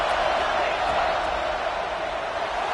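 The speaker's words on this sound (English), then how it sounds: "This crowd is trying to inspire this defense to make a big red zone stop." A stadium crowd at a Texas A&M versus Georgia college football game roars in a dense, continuous wall of noise as the home fans urge the defense on near the goal line.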